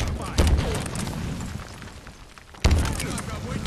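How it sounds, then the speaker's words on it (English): Two heavy booms from grenade blasts in the shooter Halo Infinite, spaced a couple of seconds apart, loud and close with a crackling tail, amid other game noise and faint player chatter. "Tossing nade!"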